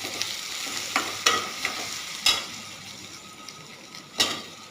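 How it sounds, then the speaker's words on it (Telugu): Drumstick milk curry being stirred in a pan, with a few sharp spoon scrapes and clinks against the metal over a soft, steady sizzle; no talking. "ఇప్పుడు ఒకసారి తిప్పుకొని మూత పెట్టుకోవాలండి"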